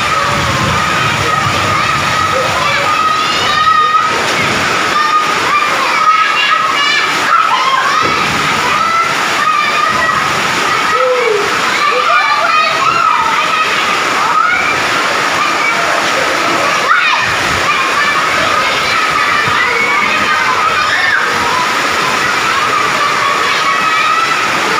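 Floodwater sloshes and splashes inside a flooded school in Gorubathan, a steady loud wash of water that runs throughout, mixed with children's voices and people talking.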